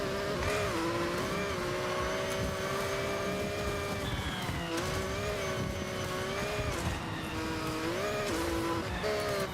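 Racing car in the Forza Horizon video game, a loud continuous engine whine rising and falling through gear shifts, with brief tire squeals and no talk.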